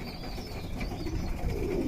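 Pigeons in a home loft where squabs have just hatched, giving soft, low cooing and faint rustling close by at a steady level, with no talk.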